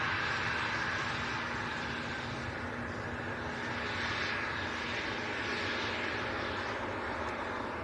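A propeller air ambulance aircraft engine drones steadily and loudly throughout at Leeds Bradford Airport, a continuous engine roar with no talking.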